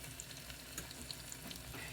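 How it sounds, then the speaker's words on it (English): Quiet, steady sizzling of onion frying in a pan, with faint scattered pops and crackles throughout. "your onion is ready because it'll start popping"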